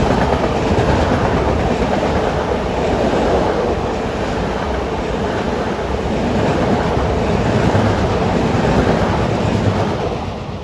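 A Long Island Rail Road train runs past Rosedale station in a loud, continuous roar with rhythmic wheel clatter that holds steady and eases slightly at the end.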